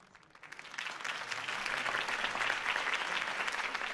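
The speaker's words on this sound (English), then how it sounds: "If only Mr. Wayne, my campaign's largest backer, could have heard that applause" Crowd applause at a campaign rally in Batman: The Telltale Series swells after a brief quiet start into steady, dense clapping that holds loud to the end.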